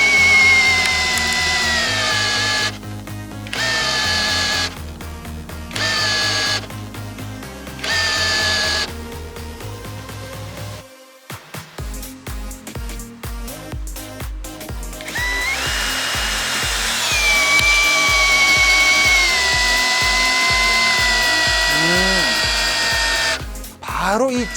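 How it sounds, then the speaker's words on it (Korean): Low-power cordless drill driver driving a screw, repeated whirring bursts rising and falling in pitch with pauses between, loud and close, with ratcheting clutch-like clicks midway. "이렇게 출력이 낮은 드릴 드라이버로 작업을 해보면"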